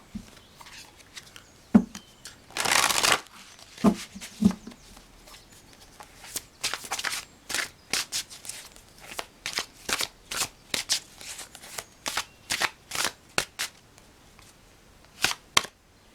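Tarot cards shuffled by hand in a pick-a-card past-life reading: a dense riffle burst early, then a long run of crisp card snaps and slaps at an uneven rhythm, close and fairly loud, with no talk.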